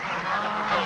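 A brief, dense clamor of geese honking together at a corn-baited capture site, a flock calling over one another from a moderate distance.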